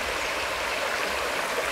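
Water rushing along the bed of the Paramirim River in Érico Cardoso after rain, a steady, full and close stream sound with no voices.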